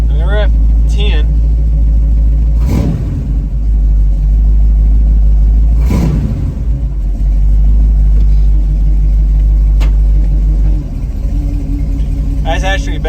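An Oldsmobile 403 V8 holds a steady high idle with a deep, constant rumble, close and loud, while a person talks over it and brief clanks break in at a few points.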